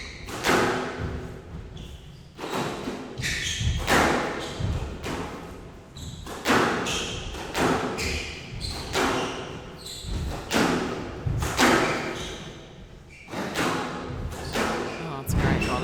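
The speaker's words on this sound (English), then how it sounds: "Oh, it's a great volley, Joel." Squash ball struck hard and repeatedly during a premier league final rally, sharp thuds and wall bangs in an irregular rhythm, close and loud, with a commentator talking over the play.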